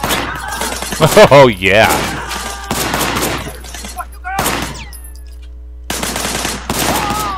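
Bursts of gunfire from a shootout in the video game Sleeping Dogs, loud sharp volleys mixed with game music and effects, with someone talking over parts of it.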